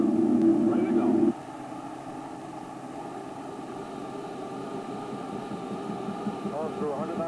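Boeing 727 cockpit on an American Airlines flight during the takeoff roll, a loud steady engine and airflow roar with a constant hum, heard from inside the flight deck.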